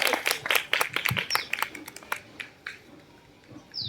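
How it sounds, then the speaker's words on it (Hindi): An audience at a poetry recital clapping for the next poet, a short burst of scattered hand claps that thins out and fades within a few seconds, with faint voices underneath. "जोरदार तालियां हो जाए इनके लिए।"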